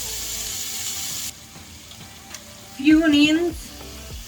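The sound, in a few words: kobeda kebabs sizzling on a charcoal grill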